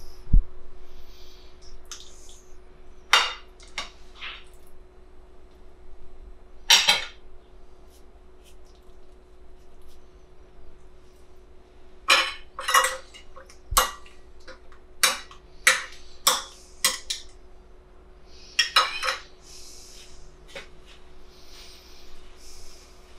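Eggplant croquettes being set down one by one onto a plate in a home kitchen, giving sharp, close clicks and taps that come in scattered clusters over a quiet background.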